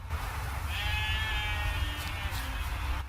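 A sheep bleats in the video game The Witcher 3: Wild Hunt, one drawn-out wavering bleat heard close and clear over steady low ambient rumble.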